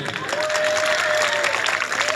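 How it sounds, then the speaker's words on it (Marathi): An audience claps together at a public program in a Marathi-speaking village gathering, a dense steady wash of applause lasting throughout, with a sustained tone and some crowd murmur underneath. "सर्वांनी टाळ्या वाजवाव्या"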